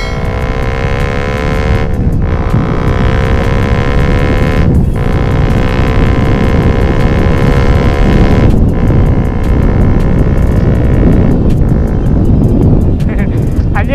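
A Sonic motorcycle in second gear accelerates on a road-race test ride, a loud, rising engine whine under heavy wind rush, with brief dips as the throttle comes off and a rider's voice speaking.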